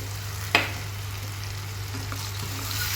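Fried eggplant pieces and freshly grated raw coconut frying together in a pan, giving a soft steady sizzle with one sharp clink near the start over a constant low hum, no voices.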